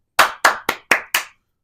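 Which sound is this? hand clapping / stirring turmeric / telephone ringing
hand clapping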